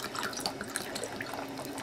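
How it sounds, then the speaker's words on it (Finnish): Cold water pouring or running from a tap into a container, a steady close splashing trickle with small drip-like accents, heard alone without talk. "kylmää vettä tähän"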